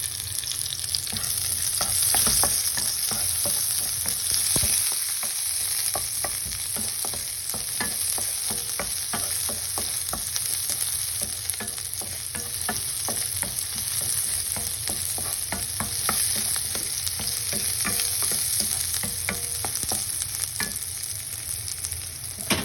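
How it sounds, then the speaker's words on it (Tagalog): Onions sautéing in a pan for beef afritada with pineapple, a steady close sizzle with frequent scraping stirs and clinks running throughout, no talk. "Bagsak po natin ang sibuyas."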